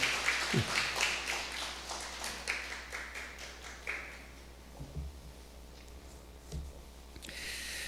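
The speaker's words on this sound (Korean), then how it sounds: "우리 축복과 환영의 박수 한번 해주시면 좋겠습니다." A church congregation claps together in a burst of applause during a Sunday morning worship service, gradually thinning out and fading.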